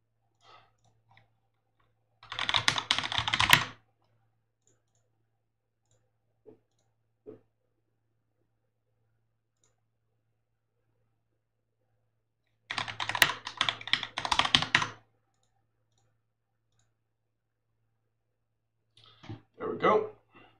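A password typed on a computer keyboard while setting up a WordPress site, heard as three separate short bursts of quick key clicks with quiet gaps between them.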